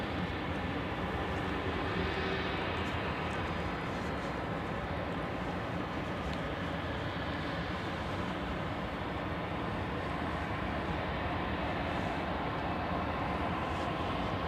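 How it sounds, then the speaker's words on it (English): A Pilatus PC-12 turboprop coming in to land at Anchorage, heard as a steady, fairly distant broadband engine roar that holds constant throughout with no talking over it. "This PC-12 is about to land and boom, he's there."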